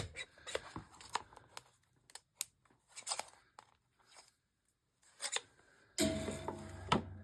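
Scissors snip through junk mail paper in a series of close, crisp cuts separated by short pauses, ending with louder rustling of the paper, and no voice.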